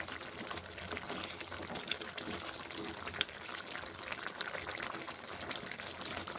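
Eggplant cooking in a pan with yogurt as it is stirred, a steady soft sizzle and bubbling with light scraping throughout, fairly quiet and continuous with no pauses.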